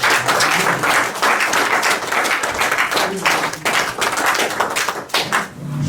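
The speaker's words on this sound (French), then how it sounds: "Si nous pouvons applaudir cela" A church congregation applauds after a sermon, loud close-up clapping with distinct individual hand claps mixed into the steady crowd sound, tapering slightly at the end.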